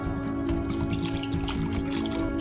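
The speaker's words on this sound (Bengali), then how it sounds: "এখন আমরা এরপর যোগ করবো আরও 100 ml মতো জল" Water pouring steadily into a pan of dahi katla fish curry, about 100 ml, a continuous close trickling splash lasting throughout with no talk.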